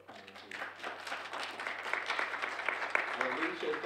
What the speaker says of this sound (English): we have a round of applause for our panel